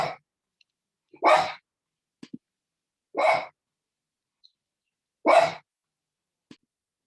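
A pet dog barks at a noise outside during a weather broadcast indoors: three separate sharp barks spaced about two seconds apart, fairly close and loud against a quiet room, with no talking.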